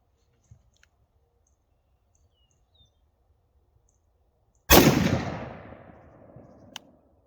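A single loud, close rifle shot from a BCA .350 Legend cracks out after several quiet seconds, then rings off in a long, fading echo.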